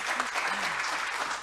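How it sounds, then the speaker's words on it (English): A brief, even burst of audience applause at an academic conference on educational inequality, moderately distant, with faint voices underneath. "I think we can do better applause than"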